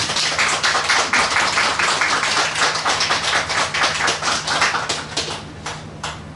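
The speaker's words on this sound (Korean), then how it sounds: "함께 박수로 축복하시겠습니다" Congregation applause at a church worship service, welcoming a visiting pastor and his wife: dense, sustained clapping from many hands, loud and steady, thinning slightly toward the end.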